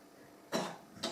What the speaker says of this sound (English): Now come my feigned